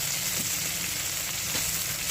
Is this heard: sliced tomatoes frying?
yes